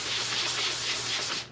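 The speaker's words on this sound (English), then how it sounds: "I'm going to start sanding it with 400 grit to see if I can get a uniform finish." Car headlight lens on a BMW X5 E70 dry-sanded with 400 grit sandpaper, a steady close rasping rub with faint rhythmic strokes, no talk.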